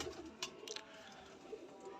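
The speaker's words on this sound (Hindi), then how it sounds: "तंदुरुस्त कबूतर है, बिल्कुल यंग कबूतर है" Soft, low cooing from a healthy young pigeon, a few gentle repeated coos heard fairly close against quiet background hiss, with no talking.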